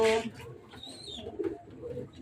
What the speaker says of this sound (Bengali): দেখো পায়রাটা